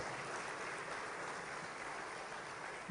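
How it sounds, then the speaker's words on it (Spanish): A church congregation applauds during a worship service, a dense, even wash of clapping that holds steady and alone throughout. "Dale fuerte ese aplauso a Dios."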